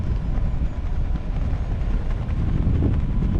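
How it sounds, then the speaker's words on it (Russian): Steady, loud rushing wind buffeting the microphone during a tandem paraglider flight, a continuous low roar with no break, as if moving fast through open air. "Ветер такой сильный, это нормально?"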